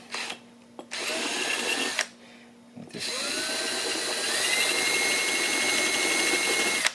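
A drill bores into a glass bottle, whirring in short bursts, stopping and restarting, then running steadily with a high, rising whine, close by and fairly loud.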